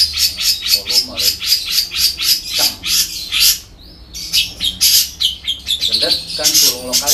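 Long-tailed shrike (cendet) singing in repeated bright, rapid chirping phrases, loud and close, with a brief pause midway before the song resumes.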